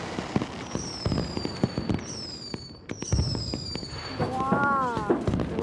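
Fireworks burst over the seaside: rising whistles, sharp cracks and scattered pops come in quick succession while excited voices exclaim nearby.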